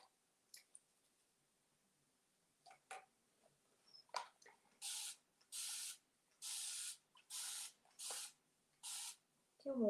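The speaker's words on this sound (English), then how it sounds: "The water bottle" A hand-pumped water spray bottle squirts onto a candleholder being given a patina finish, about seven short hissing bursts in a fairly even rhythm, close and crisp after a few soft clicks.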